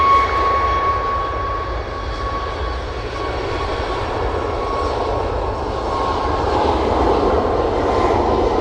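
A SunExpress airliner passing at Manchester Airport gives off a steady, fairly loud engine roar with a faint whining tone, continuous and unbroken throughout, with no voices.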